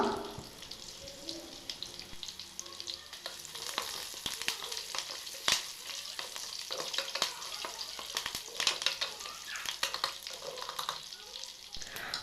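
Cut green chillies and curry leaves sizzle in hot oil for a mackerel fish curry, a quiet crackling hiss with sharp pops and a few stirring scrapes.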